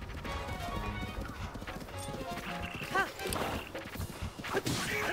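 Horse hooves clip-clopping at a gallop in the video game Zelda Breath of the Wild, a rapid uneven beat mixed with a neigh, combat hits and crashes, and a player shouting over the action.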